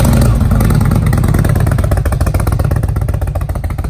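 A 2019 Indian motorcycle engine runs loud and close, a dense rumbling idle that settles into a steady rapid pulsing throb with mechanical clatter.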